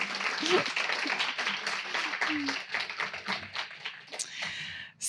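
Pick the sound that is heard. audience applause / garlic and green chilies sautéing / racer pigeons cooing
audience applause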